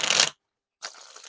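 Bicycle Cyclist playing cards are riffle shuffled in two quick, close papery bursts separated by a short silence, each a rapid fluttering rattle of cards.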